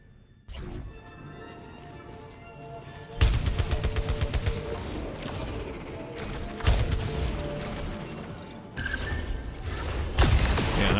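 The Tracker Swarm gun in Returnal fires in rapid repeated bursts, loud dense volleys of rattling shots with short pauses between them, in the middle of game noise and music.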